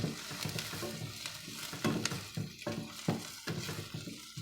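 Okra and carrots fry in hot oil in a pan while chicken soup is being made: a close, steady sizzle with sporadic scrapes and clinks of stirring throughout.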